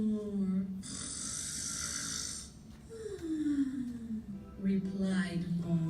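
A human voice imitating snoring in a storybook reading, giving one long drawn-out snore, a pause, then another slower snore, close and fairly soft.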